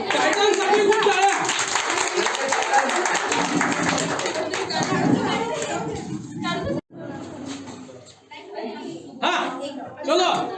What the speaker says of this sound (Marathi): टायटल साठी खूप टाळ्या